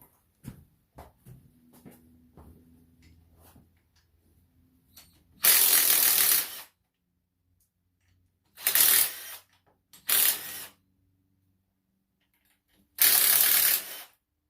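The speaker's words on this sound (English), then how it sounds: "Take these 3 bolts off for the" A ratchet wrench loosening the rusty brake rotor bolts on a Honda 300ex ATV, heard as four separate bursts of rapid, harsh clicking, loud and close, with quiet gaps and faint clanks between them.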